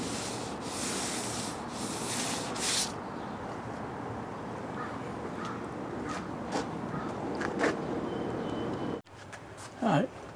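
Fiberglass filler being sanded on a 1940s Harley-Davidson Servicar utility box, a steady abrasive rubbing that runs almost continuously at close range, with a brief pause near the end followed by a short final burst.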